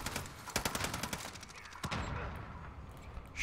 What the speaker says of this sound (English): Probably going to use the FiNN LMG again.